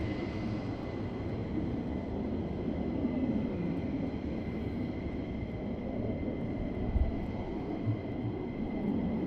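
F-15 jets taxiing at RAF Lakenheath, a steady distant rumble of jet engines with a faint sustained whine, even and unbroken throughout, with no talking.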